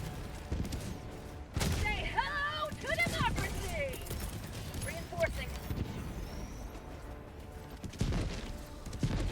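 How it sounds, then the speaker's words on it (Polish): Gunfire in the video game Helldivers 2: bursts of distant shooting and crackling impacts under a busy game soundscape, with a voice speaking over it. "Co tutaj tak strzela?"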